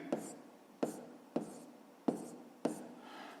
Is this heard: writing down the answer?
yes